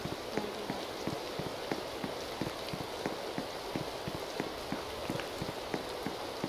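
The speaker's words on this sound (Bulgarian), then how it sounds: "аз много мразя да вали" Steady rainfall in a video game patters softly and continuously, with a regular faint ticking of drops on a surface throughout.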